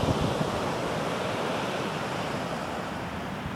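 Waves wash steadily onto the beach at Port Ouest on Réunion at sunset, a continuous close surf roar mixed with light wind noise and no voices.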